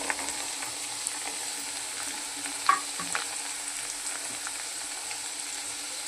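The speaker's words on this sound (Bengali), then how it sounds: "পেঁয়াজটা আমার ভাজা হয়ে গেছে এবার আমি নুন চিনি আর এই গরম মশলাটা দিয়ে দিচ্ছি" Onion frying with salt, sugar and garam masala being added in a pan for a fish-roe fritter curry gives a steady soft sizzle, with a faint clink of a spoon stirring, and no voices.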